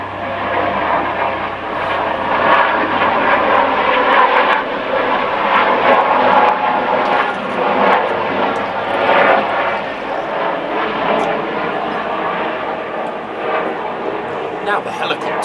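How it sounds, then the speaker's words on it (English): Helicopter flying overhead outdoors, a steady rumbling engine drone with a faint pulsing beat that holds throughout, while someone talks over it. "And now a helicopter."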